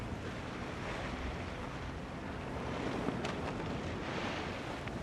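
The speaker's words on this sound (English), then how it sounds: "It's getting more wind. The waves are getting up." Waves and strong wind at sea during a yacht race, a continuous loud rushing roar with wind buffeting the microphone and water surging around the boat.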